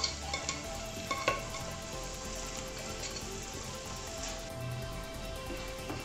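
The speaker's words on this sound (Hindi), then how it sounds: "सारी सब्जियों को अच्छे से मिक्स कर लेंगे।" Boiled, mashed vegetables being stirred into sizzling fried masala in a pan over a low flame for Mumbai street-style pav bhaji, with a steady fry hiss and a few sharp scrapes and knocks near the start.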